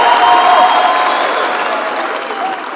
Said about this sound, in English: Another round of applause for His Excellency, the Deputy President